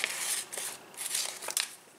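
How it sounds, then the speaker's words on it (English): Scissors snip around stickers in short, crisp, papery cuts, several quick closes in a loose rhythm, close and quiet with no voices. "I can just come in with my scissors and just, you know, cut around the stickers"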